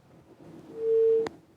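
A telephone tone on a call-in line after the caller disconnects: one steady tone of about half a second that ends in a sharp click, over faint background murmur.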